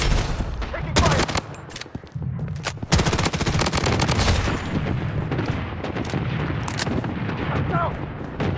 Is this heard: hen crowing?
no